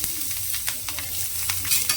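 Green chillies and cumin seeds frying in a little oil on a tawa make a steady close sizzle, with occasional sharper pops and stirring scrapes, and no voice.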